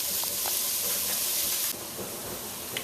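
Red bell pepper sizzling in a pan, a loud steady hiss of frying with occasional crackles that eases slightly partway through.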